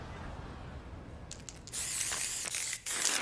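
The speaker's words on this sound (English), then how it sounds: "Spray paint." Spray paint can hissing in the Street Fighter 6 video game, a short burst of bright hiss followed by a longer sustained spray with a brief pause near the end, loud and close with no talk.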